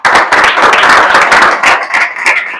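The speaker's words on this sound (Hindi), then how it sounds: "एक बार जोरदार ताली मारो इसके लिए।" Loud, dense applause and clapping from an audience gathered for a talk to children, sustained close throughout before thinning slightly at the end.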